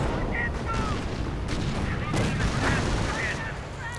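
A mortar fires during a World War II strategy game battle, amid a dense mix of booming blasts and gunfire bursts at a constant, fairly loud level.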